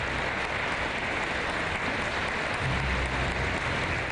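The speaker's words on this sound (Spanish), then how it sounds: "los aplausos con que los asistentes homenajearon a Trujillo" Mourners at a funeral tribute give sustained applause, a dense, steady clatter of many hands clapping evenly for several seconds with no talk over it.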